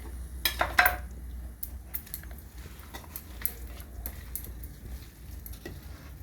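Carrot halwa being stirred and mixed in a pan, with clattering clinks of a utensil against the pan, a cluster of sharper knocks early on, then softer intermittent scraping taps, close and moderately quiet with no talk.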